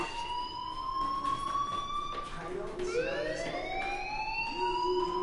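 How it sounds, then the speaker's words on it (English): A fire alarm rings in a PS4 video game, a loud continuous electronic tone that sweeps upward with a pulsing beat, running throughout the clip with muffled speech underneath. "do you hear that fire alarm? That means you should be outside."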